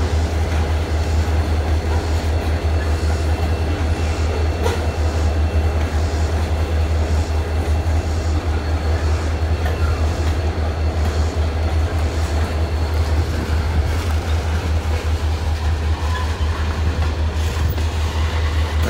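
A CSX freight train passing close by, a loud continuous low rumble of engines and rolling rail cars with faint clatter throughout.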